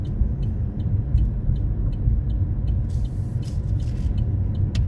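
A car drives along a road past houses and fields in the USA and turns left, with a steady loud engine and road rumble inside the cabin and faint light ticking above it.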